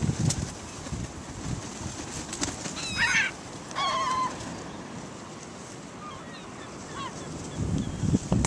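Seagulls calling at a snowy seaside in Seaside Heights: a few short, harsh calls in two quick bursts with fainter cries later, over a constant outdoor wind-like background.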